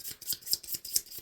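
Tarot cards shuffled close up, making quick rhythmic papery riffles in about five or six crisp bursts with no talking.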